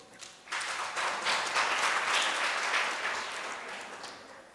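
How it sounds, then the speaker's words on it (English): A conference audience of midwives and health workers gives itself a round of applause, a soft, distant burst of clapping that swells, holds for a few seconds and then slowly tapers off. "give yourselves a round of applause"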